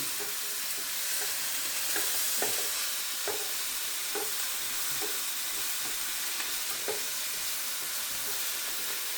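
Eggplant stir fry being stirred in a hot pan, with a steady loud sizzle of frying and repeated scraping taps of the utensil against the pan throughout.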